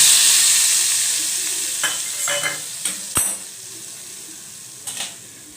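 Tomato ketchup sizzles loudly in hot oil with soy sauce, a bright steady frying hiss that fades slightly while a few sharp clinks and scrapes of a spoon stirring against the pan break through, cooking a hot and spicy Korean-style Maggi.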